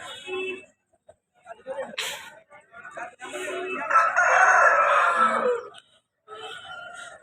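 A three-kilogram fighting rooster crows nearby in a long drawn-out call at a gamecock market, with people talking before and after it.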